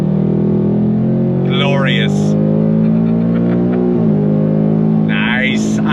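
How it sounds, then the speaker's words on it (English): 2024 Ford Mustang GT V8 accelerating on throttle, a deep steady engine roar heard from inside the car that climbs in pitch, dips briefly at a gear shift and climbs again, with someone talking over it. "it's the sound of that V8."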